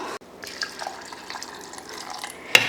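Water pours into a mixer jar for dosa batter, a close trickling, splashing stream running steadily before ending with a sharp clink of the jar.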